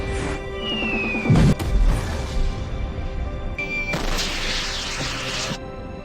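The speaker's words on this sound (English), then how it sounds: "Missile launch." A missile launch at White Sands Missile Range, New Mexico, heard as a sudden loud blast followed by a roaring rush that swells and then fades, with a second burst of roar later on.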